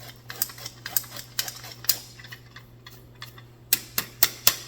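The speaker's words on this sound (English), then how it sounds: "So we'll just sift this together." Flour and dry ingredients for cookies are sifted, giving a run of uneven rhythmic ticking and tapping from the sifter, close and fairly crisp, over a low steady hum.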